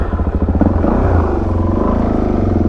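A modded Suzuki DRZ 400 SM single-cylinder motorcycle is ridden with a loud, close, rapidly pulsing exhaust thump that holds a steady engine note throughout.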